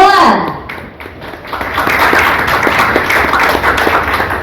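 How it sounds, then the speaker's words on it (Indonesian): During a football club's press conference introducing a new player, a voice speaks briefly. A roomful of people then breaks into steady applause with distinct claps, moderately loud and continuing to the end. "sekali lagi boleh berikan tepuk tangan"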